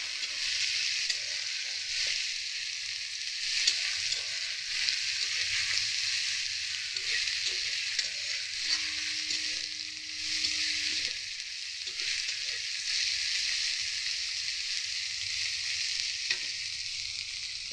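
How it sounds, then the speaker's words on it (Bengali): Ground garlic paste fries in hot oil, giving a steady, even hiss of sizzling that carries on unbroken for the whole stretch, with no voices. "দিয়ে দিচ্ছি বেটে রাখা রসুনটাকে কিন্তু ভালো করে একটু ভাজা ভাজা করে নেব"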